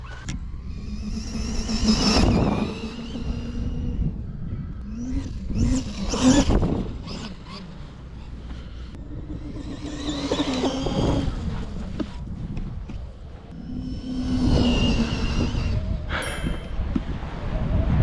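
An Arrma Quake 223S RC truck's electric motor whines up and down in four rising and falling bursts at quarter throttle, close and loud, with short pauses between pulls.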